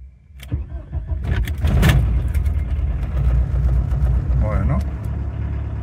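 A VW Golf II diesel engine cranks and catches after a glow plug change, then settles into a steady, loud, close idle.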